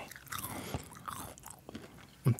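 Crisp crunchy chewing of almonds, close-miked and quiet, with a few bites and soft mouth sounds and a sharper crunch near the end.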